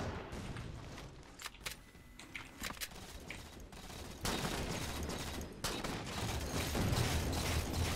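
Rapid gunfire from the video game Halo 4 crackles in dense bursts and steady volleys with occasional heavier booms, continuous and loud throughout.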